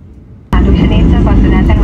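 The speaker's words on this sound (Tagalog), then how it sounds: "Nagsimulang bumaba ang eroplano" An airplane descends to land at Don Mueang Airport in Bangkok, with a cabin roar that kicks in abruptly and stays loud and steady to the end after a quiet start.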